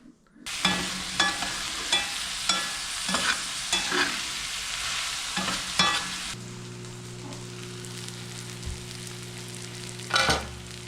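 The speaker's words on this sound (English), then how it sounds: "we gotta fry some onion" Onion fries in a pan on a wood-burning cookstove with a loud, bright sizzle and rhythmic stirring scrapes, then the sizzle drops to a quieter hiss under a low steady hum, with one more stir near the end.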